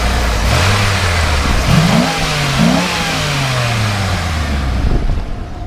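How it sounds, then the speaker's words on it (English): Engine of a 1996 Ford F150 4x4 pickup revs up from idle in two rising pulls, then settles back, loud and close with no talking. "Go ahead and rev it up a little bit."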